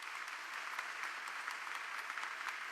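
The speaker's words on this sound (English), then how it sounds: "Please join me once again in giving our performers a very big round of applause." Steady applause from an audience for choir performers at a meeting of Christian denomination leaders, a dense continuous patter of many hands clapping throughout.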